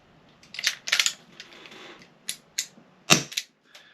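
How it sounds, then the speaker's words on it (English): Small plastic parts click and rattle in quick, sharp bursts as shells are loaded into the moon clip of an airsoft Chiappa Rhino revolver, close and fairly faint, with no talking. "Let's now reload the moon clip."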